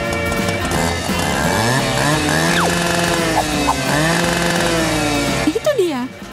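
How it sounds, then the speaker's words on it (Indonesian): A loud, continuous chainsaw drone with rising and falling pitch as it revs, with a jangly musical background running throughout. "Aku membutuhkan gergaji mesin untuk memotong ini."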